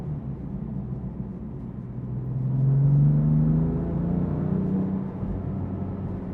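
A BMW M4 Competition engine drones steadily from inside the cabin in traffic, its pitch rising in the middle as it accelerates and then easing back, with low road rumble underneath.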